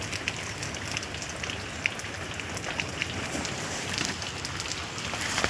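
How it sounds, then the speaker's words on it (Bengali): Heavy rain pours down at a West Bengal village house, a dense, even roar of drops striking surfaces, steady and close throughout with no voices. "দেখো প্রচুর জোর পরিমাণে বৃষ্টি এসেছিলো,"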